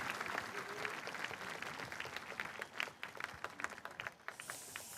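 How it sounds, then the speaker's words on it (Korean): An audience at a Korean national ceremony marking 80 years of liberation breaks into sustained applause, a busy wash of many clapping hands at moderate level, with faint voices mixed in and a brief lull near the end. "네 분 오늘 함께해 주셔서 다시 한번 큰 박수 보내드리면서"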